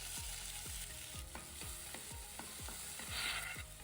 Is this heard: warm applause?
no